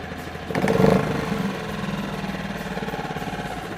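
A Hidea four-stroke outboard boat motor catches after a pull start, then settles into a steady, close, even idle with no talking.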